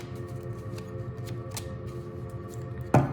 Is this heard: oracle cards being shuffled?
yes